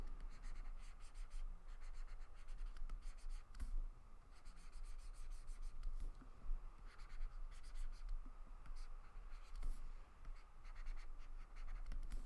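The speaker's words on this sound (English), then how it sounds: "is drawing your noses like this" Pencil scratching across paper while drawing noses, a continuous dry rubbing and scratching with short stroke bursts, close and fairly quiet, no voices.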